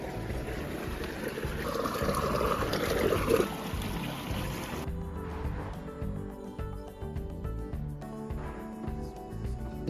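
Fresh water trickles steadily at a village wash-house, a continuous soft watery rush close by with a low background rumble and no voices.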